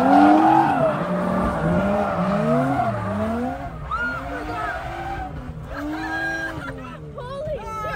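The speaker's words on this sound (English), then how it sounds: "Here's a shot of Matt doing a clutch kick, but his clutch went out and it didn't do anything, so he shot forward into my car and almost hit us" A drift car doing a clutch kick squeals its tires in repeated rising and falling whines over engine noise, loud and close, with chatter and crowd sounds mixed in.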